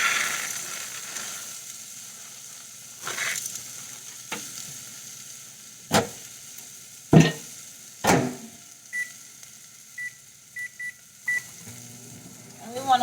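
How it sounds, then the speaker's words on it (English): Orzo pasta is stirred in a hot pan of fat with garlic and herbs, giving a soft steady sizzle broken by louder scraping stirs. A few faint electronic beeps sound in the background. "We're going to stir everything around."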